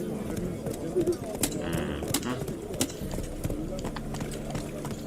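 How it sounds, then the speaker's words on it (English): Horse hooves clip-clop from The Witcher 3 game, an uneven run of close hoofbeats on hard ground with a brief whinny and bird calls behind; a person talks over it. "It's hard to control this horse."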